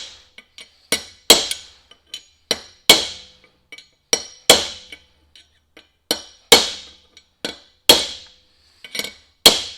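A hammer strikes a chisel to drive a hard steel hub bearing race into the front hub of a Mack Cruiseliner truck, giving sharp metallic ringing blows at an irregular pace, each decaying briefly, with no one talking.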